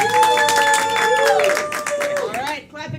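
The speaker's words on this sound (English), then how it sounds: "Clap if you want to see Dave die." Audience clapping to vote during a Halloween game show event, scattered claps under a sustained sung or tonal voice and background chatter, fading out near the end.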